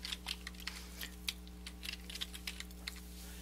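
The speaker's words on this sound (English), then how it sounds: "we're going to type in a password." Quiet keystrokes on a computer keyboard as a password is entered, a light irregular patter of taps over a steady electrical hum, with no talk.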